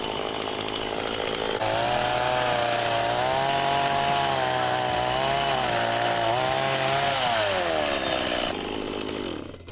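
A chainsaw holds a steady high whine at close range while trimming a bush, its pitch dipping and rising slightly as the blade bites into branches, running for several seconds before cutting off abruptly.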